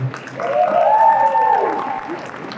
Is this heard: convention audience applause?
yes